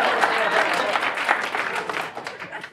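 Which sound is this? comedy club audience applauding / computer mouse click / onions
comedy club audience applauding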